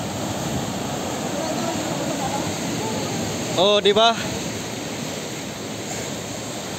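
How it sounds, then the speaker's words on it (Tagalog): Pacific Ocean waves crash and wash steadily nearby in a loud, continuous surf roar, with wind noise and a brief spoken exclamation in the middle. "ang ganda ng lagapak ng tubig dito sa Pacific Ocean"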